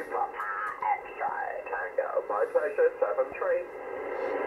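Radio station received on an ICOM IC-7760 transceiver, a band-limited voice signal with a thin, narrow tone and a steady hiss underneath, continuous over a few seconds.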